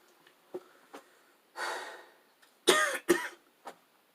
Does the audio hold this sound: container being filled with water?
no